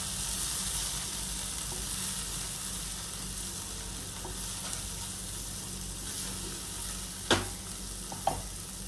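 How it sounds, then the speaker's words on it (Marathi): Coriander powder and red chili powder stirred into oil in a frying pan for bhindi bhaji, a steady low sizzle with a couple of sharp scraping knocks near the end. "1 चमचा धने पावडर, 1 चमचा लाल तिखट हे ॲड केलं आणि याला व्यवस्थितपणे मिक्स करून घ्या"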